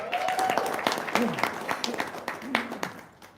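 Audience clapping at an Indonesian religious gathering, a few seconds of scattered claps mixed with voices and cheering, tapering off as the hall quiets.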